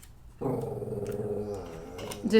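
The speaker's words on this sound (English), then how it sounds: "Has your dog ever growled at you" A pet dog growls in a low, steady rumble for about two seconds, close and fairly quiet indoors, with no talking over it.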